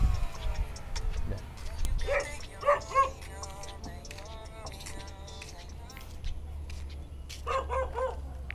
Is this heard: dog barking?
yes